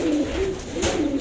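Pigeons coo in soft, repeated low warbling calls during vaccination against pox, heard close and steady with no talking.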